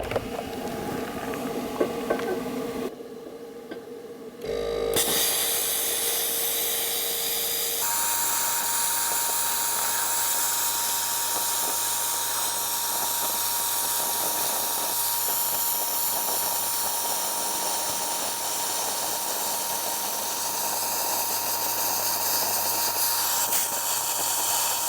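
A YesWelder 45-amp plasma cutter, run off a regular extension cord, slices freehand through quarter-inch structural steel, giving a loud, steady, harsh hiss and buzz that runs almost unbroken for the whole stretch after a short pause near the start.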